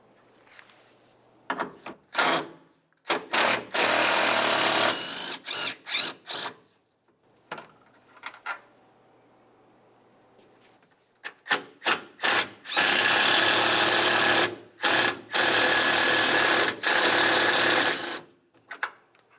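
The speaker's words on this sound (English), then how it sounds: "Now we can move along to removing our two 10mm headed bolts that hold the radiator to the crossbar." A power tool removes two 10mm radiator bolts holding the radiator to the crossbar on a 2005-2010 Dodge Dakota. Loud whirring bursts run in several long stretches, broken by short clicks and quiet gaps.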